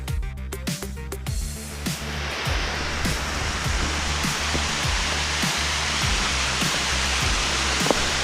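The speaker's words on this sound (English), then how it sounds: "This is that waterfall." Yeddi Gozel waterfall in Azerbaijan pours in a loud, steady roaring rush of falling water heard close by, continuous throughout after a brief rustle at the start.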